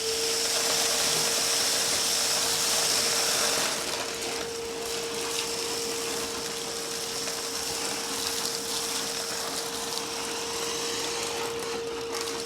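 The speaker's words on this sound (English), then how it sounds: "now we're gonna take the DeWalt's vacuum and we're gonna turn this one on first" A DeWalt shop vacuum runs continuously, a loud steady motor whine with a strong constant tone and broadband airflow rush, slightly louder at first and then settling into an even drone.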